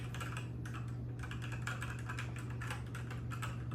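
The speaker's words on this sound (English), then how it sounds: "Very lightweight mechanical keyboard." Fast, steady typing on a lightweight mechanical keyboard, with dense clacking keystrokes close up over a constant low electrical hum.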